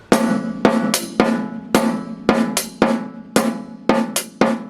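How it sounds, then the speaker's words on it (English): A drum kit plays an interlocking pattern, crisp hi-hat quarter notes on a steady pulse against snare quarter-note triplets in a looser rhythm, close and clear. "quarter notes on the hi-hat, quarter triplet on the snare"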